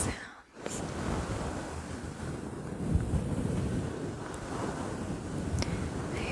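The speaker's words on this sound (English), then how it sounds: "just a few minutes of pure mic scratching sounds" Soft, continuous scratching on a fluffy microphone cover makes a dense, close rustling roar with brief dips, filling the recording without any voice.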